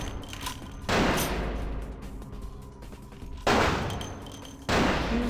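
Gunfire in Vampire: The Masquerade – Bloodlines, three loud sharp bursts of shots with echoing tails, separated by quieter gaps.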